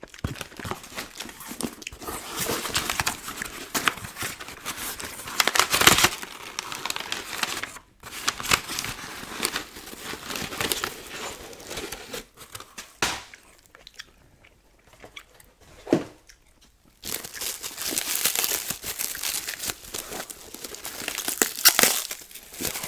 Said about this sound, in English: Oh, and it's like cellophane.